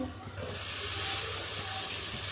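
Sliced bell peppers dropped into a hot pan of oil, a brief clatter followed by a sudden loud, steady hissing sizzle that holds close and continuous to the end.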